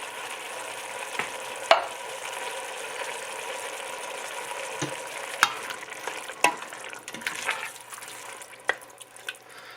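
Italian green beans with canned diced tomatoes cook in a pan with a steady, soft sizzle and bubbling, while occasional utensil clicks and scrapes against the pan break through the continuous frying sound.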